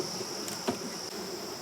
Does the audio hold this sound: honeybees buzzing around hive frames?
yes